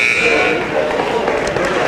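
A loud electronic buzzer ending the third quarter of a boys' varsity basketball game blares steadily over a noisy gym crowd, holding a sustained harsh tone for the whole moment.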